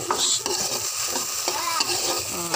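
A spoon stirs and mixes a sizzling pan of corned beef, scraping rhythmically against the pan under a steady frying hiss, close and loud with no talk.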